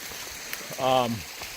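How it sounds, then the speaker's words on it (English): Faint running water from a small stream at a water crossing on a forest hiking trail, a soft steady trickle with a voice speaking briefly over it. "Oh, nice little water crossing"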